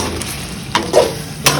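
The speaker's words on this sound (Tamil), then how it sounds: "ஷேலட்ஸ் ஆட் பண்ணி நல்லா மிக்ஸ் பண்ணி கொடுத்துடலாம்." Shallots sizzle steadily in a hot pan for a beef mint masala, with a few sharp scraping stirs of a spoon against the pan cutting through the constant loud frying hiss.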